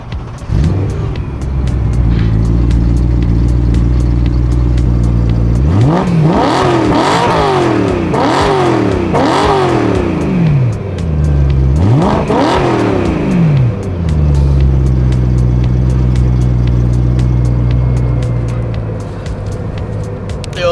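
A BMW M3 with its V8 and modified exhaust idles loudly and is revved hard several times. Two clusters of rising and falling blips cut through the steady, close rumble before it drops back to a deep idle.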